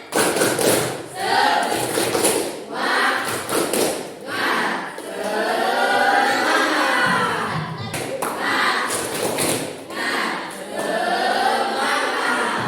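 A school class performs the rhythmic 'tepuk semangat' clapping chant, bursts of unison claps in a steady pattern mixed with children's chanting voices, loud and close throughout.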